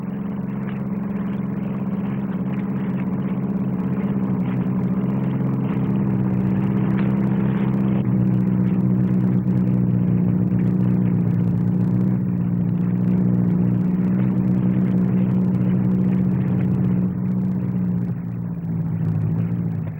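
A four-ton SR.N1 hovercraft hovering over the runway at the 1959 Farnborough air display, its engine giving a loud, steady droning rumble with a constant low tone that holds throughout with little variation.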